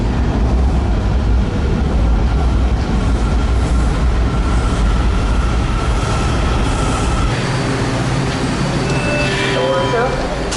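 Washington DC metro train at a station platform, a steady broadband rumble and hiss of the train running and braking, with a high squeal and tonal whine near the end as it comes to a stop; people talk faintly in the background.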